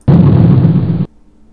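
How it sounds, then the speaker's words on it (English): The thunder sound effect from Microsoft Flight Simulator 4: a single loud, booming thunderclap that holds steady for about a second and then cuts off abruptly into near silence. "Here's thunder"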